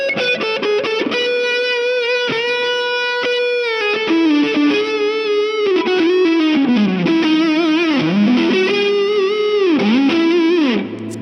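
A 1961 Fender Stratocaster electric guitar runs through distortion and chorus-style effects, playing a loud, sustained lead line with bends and vibrato that swoop in pitch, ringing continuously for about eleven seconds before cutting off.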